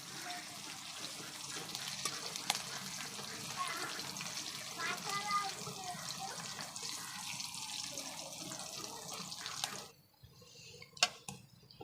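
Greens hit a pan of frying garlic, raising a steady crackling sizzle that runs for about ten seconds and then drops away, leaving a few faint clicks.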